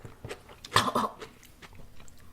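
Close, crisp crunching as someone bites into a crunchy vinegar pickle, with one sharp bite and then softer chewing crunches.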